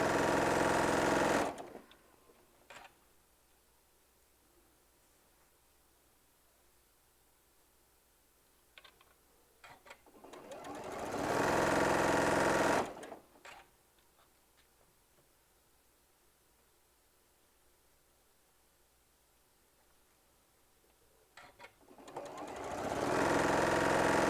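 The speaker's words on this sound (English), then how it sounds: "just sewing it through" A sewing machine stitches a hummingbird quilt panel in three separate runs, each a loud, fast mechanical whir lasting a couple of seconds, with quiet handling and faint clicks in the pauses between.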